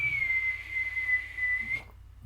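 A person whistles one long, steady high note that wavers slightly for nearly two seconds, then cuts off abruptly into near silence.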